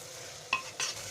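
Masala being stirred and roasted in a pan, two brief spoon scrapes against the pan over a faint background, quiet and close with no talking.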